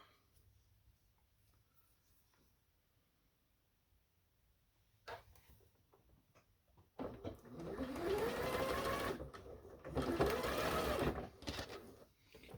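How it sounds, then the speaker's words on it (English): A sewing machine stitching quilt blocks together: quiet handling and faint rustling first, then two close, steady runs of rapid mechanical stitching separated by a short pause. "I'm going to grab some more little blocks here just to sew together."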